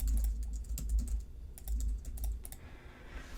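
Rapid typing on a computer keyboard, close and clear, in uneven bursts of keystrokes with a short pause partway through and no speech.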